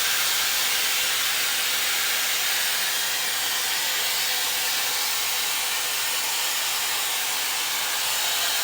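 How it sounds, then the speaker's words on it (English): A curling wand hair styler blows hot air in a steady, unbroken whoosh with a bright hiss, running loud and close for the whole stretch with no talking. "And then I take the curling wand down to the bottom, I turn it on, and I kind of let it suck up the bottom while I turn it"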